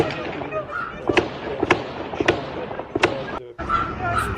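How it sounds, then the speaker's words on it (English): Gunfire in Kyiv during the Russian invasion: several sharp cracks ring out at irregular intervals, echoing through the city over a background of muffled voices and street noise. "The gunfire in the background."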